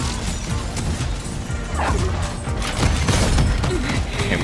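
A dog character in the Paladins video game barks and attacks amid loud, dense combat noise of crashes and impacts, the snarling mixed into constant gameplay clatter.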